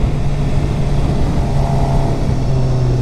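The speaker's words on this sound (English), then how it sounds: "The 4-cylinder in the sport bike is incredibly smooth." A 2013 Suzuki GSXR 750 four-cylinder sport bike engine running smooth and steady, a loud, continuous even hum with a constant low drone throughout and no talking.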